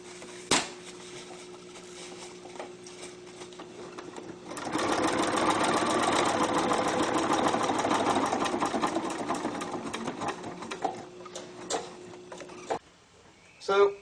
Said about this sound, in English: Trick is making sure we don't get any fabric underneath of this while we're sewing it onto there.